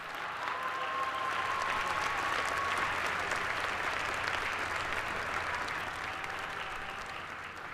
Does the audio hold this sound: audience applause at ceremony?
yes